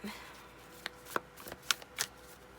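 Tarot cards being shuffled by hand, a series of soft, sharp riffling snaps and taps at uneven intervals, close but fairly quiet over a faint background hiss.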